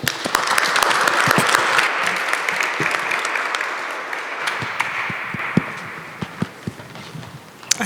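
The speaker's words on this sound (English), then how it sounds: "Please join me in giving them a round of applause." An audience applauding speakers at a panel discussion on racial equity in education, a full room of steady clapping that swells at first, then thins out to scattered claps as it fades.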